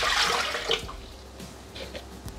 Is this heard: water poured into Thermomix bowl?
yes